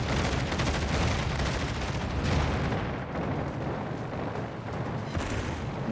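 Torpedo hits detonating against an enemy ship in a naval aircraft carrier video game, a dense, continuous barrage of heavy booms and rumbling blasts, loud throughout with a brief dip midway.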